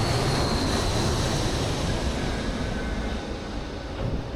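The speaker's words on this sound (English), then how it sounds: "That's probably an awesome plane going overhead right now." An airplane flies overhead during a catamaran test drive, heard as a loud, broad, continuous rumble that holds steady and fades slightly toward the end.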